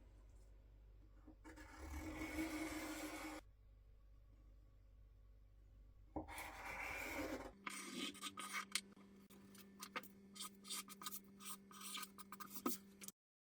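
A pen tracing a neon tube outline on pattern paper, scratching and rubbing in several bursts of steady scraping strokes, close up, with pauses between them.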